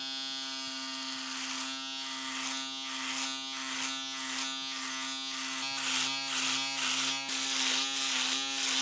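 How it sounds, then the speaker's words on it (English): A close electric foil shaver buzzes steadily against facial stubble on the cheeks and neck, its constant motor hum broken by rhythmic raspy strokes as it passes over the hair. "then I'll use the actual foil shaver to get my cheeks and my neck"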